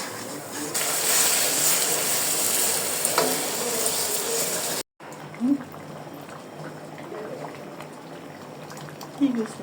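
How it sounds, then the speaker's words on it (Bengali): Onions frying for pulao make a busy, bubbling sizzle for about five seconds, then break off briefly and return quieter, with voices talking faintly in the background. "আর এখানে পোলাওয়ের জন্য পেঁয়াজ ভাজা হচ্ছে"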